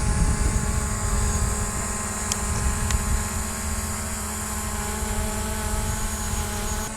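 Parrot Disco fixed-wing drone in flight with a freshly updated FrSky receiver, producing a steady droning propeller whine and hum that carries evenly throughout without talk.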